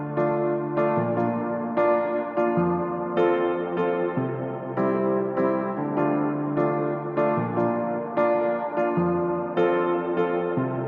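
Piano in a future bass refrain, changing chords in a steady rhythm with repeated bright attacks roughly every second, loud and continuous, layered with other synth parts and no talking.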